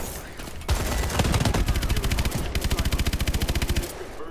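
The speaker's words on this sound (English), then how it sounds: "I got a fucking chain gun for you." A chain gun fires in Call of Duty Advanced Warfare as a long, rapid, steady stream of shots. A short break in the middle is followed by tightly rhythmic rounds that continue almost to the end.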